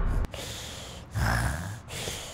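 A child imitates snoring with rough, breathy snorts and drawn-out nasal inhales, three close bursts separated by short gaps.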